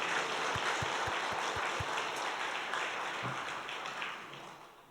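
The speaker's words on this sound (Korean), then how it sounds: "우리 엔게디 찬양팀에서 우리 박수로 한번 뜨겁게 격려하면 좋겠어요" A church congregation at a mission committee worship service applauds a praise team with steady, dense clapping from a large crowd that fades out toward the end.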